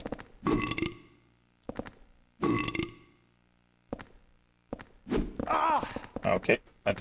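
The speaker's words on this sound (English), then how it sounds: "I don't know why they burp when you hit them" Enemies in Silent Hill 4: The Room belch when struck, several loud guttural burps landing amid thudding hits and grunts, close and repeated over a few seconds.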